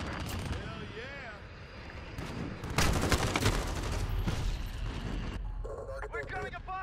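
Rapid bursts of gunfire erupt in a VTOL air-support video game, loud and dense, heavy volleys overlapping game voices and effects, with a sharp burst midway.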